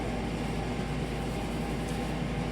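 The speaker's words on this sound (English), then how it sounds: "that noise you hear is my heater trying to keep everything above freezing" A heater runs in a cold studio with temperatures near freezing, giving a constant broadband rushing hum with a low rumble, steady and unbroken throughout.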